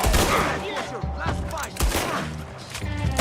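Rapid machine gun fire in Red Dead Redemption 2, a continuous loud clatter of shots with repeated heavy thumps throughout, and talk faintly beneath it.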